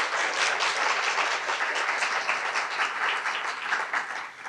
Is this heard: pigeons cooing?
no